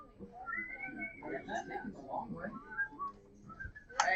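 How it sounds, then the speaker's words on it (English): Several people whistle loosely in a classroom, wavering overlapping tunes mixed with chatter and talking throughout, moderately near. "why are we whistling? This is not whistle choir."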